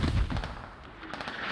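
Video game mortar firing smoke rounds, a low muffled thump followed by rumbling, crackling distant battlefield booms, moderately faint, with no speech.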